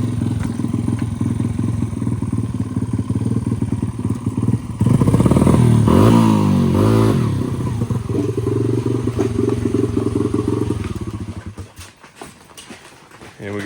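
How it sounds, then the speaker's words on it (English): A pit bike motorcycle engine runs steadily close by, rising briefly in a louder rev partway through, then fading as the bike is brought back indoors, with clattering and thuds near the end. "She's actually bringing his bike back in now."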